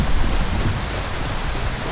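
Steady, loud rain hisses evenly in the video game Skyrim, a constant wash of downpour with no talking over it.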